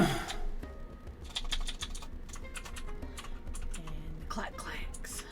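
Computer keyboard typing, a quick run of light plastic key clacks and taps in irregular bursts, close and fairly quiet, with faint room noise behind.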